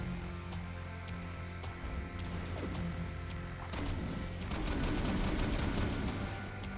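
Rapid gunfire rattles in the video game Vektor Byte as barricades are shot, dense bursts thickening and intensifying toward the middle, over a steady droning game soundtrack, with no talk.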